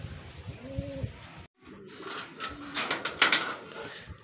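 Racing pigeons give close, throaty coos at the start, followed by scattered clicks and rustling around the loft.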